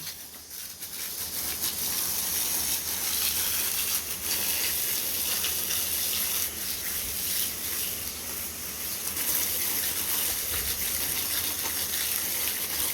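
Running water rinses mud off a dog's wet coat and tail outdoors, a steady close splashing gush that carries through the whole stretch with no talking.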